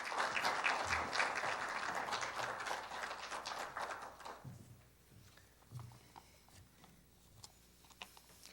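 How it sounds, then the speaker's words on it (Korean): Audience applause at a Korean software industry awards ceremony, a dense round of clapping filling the hall for about four seconds before fading into scattered claps and quiet room noise. "큰 박수를 부탁드립니다"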